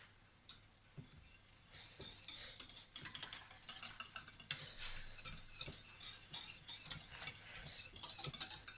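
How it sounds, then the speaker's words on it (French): A whisk stirs cocoa into hot milk in a bowl for a chocolate flan, making a faint, steady clinking and swishing that continues through the whole stretch with no talking. "Et vous allez mettre votre cacao. Voilà. Et vous allez fouetter."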